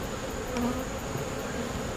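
Honeybees buzz steadily around a beehive, a dense continuous hum close by with a few louder passes of individual bees, no talk.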